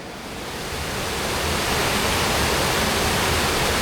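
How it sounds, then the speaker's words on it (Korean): Bohyeon waterfall in the rocky Naeyeonsan valley, a dense, steady roar of falling water that swells in over the first second and then holds constant and loud, with no voices. "지금 여기 보이는 곳은 보현 폭포라고 합니다."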